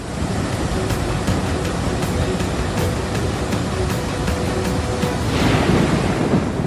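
Floodwater on the Yamuna River rushes in a steady, loud, broadband roar with wind buffeting the microphone, continuous and unbroken with no one speaking.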